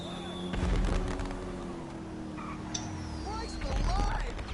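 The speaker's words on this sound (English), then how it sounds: "I can hear the fireworks going off in the background." Fireworks go off in Grand Theft Auto Online during a New Year scene, with booms and crackles in the background, mixed with game noise under a person talking.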